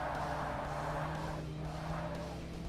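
D-Class race car in Forza Motorsport lapping a track, a steady, sustained engine drone with tire noise at constant level throughout, no voices over it.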